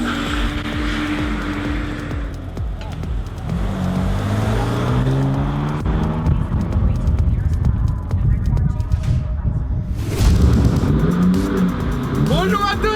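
A small drift car on a race circuit, engine revving and rising in pitch through slides, loud and close with revs climbing and dropping, a sharp tire squeal near the end.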